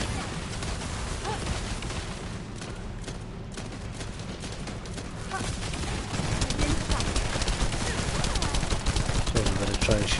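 Gunfire in the video game The First Descendant, dense rapid shots running continuously throughout and growing louder in the second half, layered with game effects and impacts.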